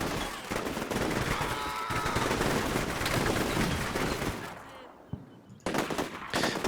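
Dense bursts of small arms fire crackle almost continuously from soldiers in the Combat Mission Shock Force 2 video game, rattling loudly before a brief lull and another burst.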